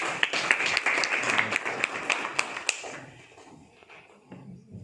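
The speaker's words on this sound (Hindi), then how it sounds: "मेरे भाई उपेंद्र के लिए भी तालियां हो जाए" Seminar audience at BHU applauding a speaker, a crowd of hands clapping loudly with sharp individual claps standing out, then tapering off to a quiet room after about three seconds.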